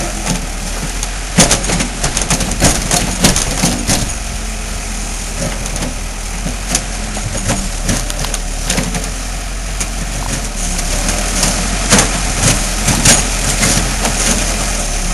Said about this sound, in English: this backhoe starts digging